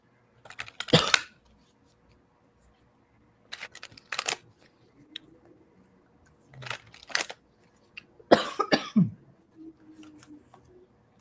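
Several separate bursts of coughing, close by, with short quiet gaps between them and no talking.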